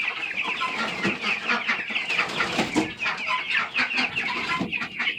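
Meat chickens in a coop cluck and chatter continuously, a close, busy flock with overlapping calls.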